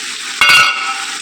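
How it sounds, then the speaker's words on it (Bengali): Spices being stirred into cauliflower curry sizzling in a frying pan, with a single short, loud scraping stir over a steady background sizzle. "এটা দিয়ে আমি ভালো করে একটু নাড়িয়ে চাড়িয়ে নেব।"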